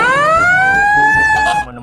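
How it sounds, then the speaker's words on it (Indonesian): A toy fire truck's siren wails loud and close in one rising, sustained electronic tone that holds for over a second before cutting off abruptly. "Wah, yang ini mobil damkar."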